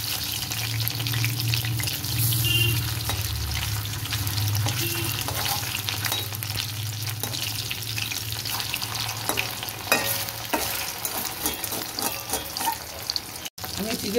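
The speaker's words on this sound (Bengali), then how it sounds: "আমি এক পাশ ভাজা হয়ে গেছে, আমি এগুলো এবার উল্টে নেব।" Chicken pieces frying in hot oil with a continuous close sizzle, pieces flipped and stirred with occasional clinks and scrapes, a low hum underneath.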